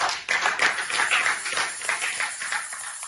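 A church congregation claps together in worship, producing a lively, roughly rhythmic stream of sharp hand claps that holds steady and fairly loud from start to finish.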